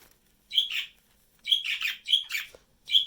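A pet bird chirps in short bright bursts, several quick tweets in clusters separated by brief pauses, close and clear in an otherwise quiet room.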